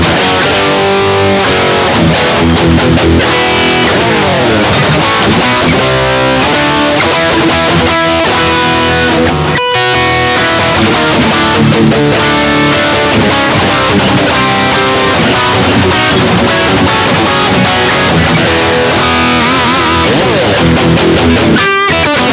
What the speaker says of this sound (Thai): คราวนี้ก็จะข้ามมาเป็นเสียงแตกมานะ